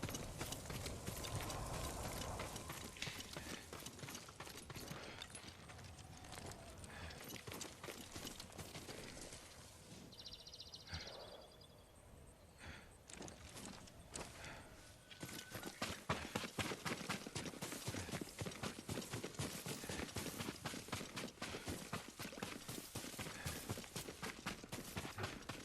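Horse hooves clip-clopping in the Ghost of Tsushima video game, a steady stream of hoof beats running through the whole stretch, quieting briefly midway before returning louder, with game ambience and no speech.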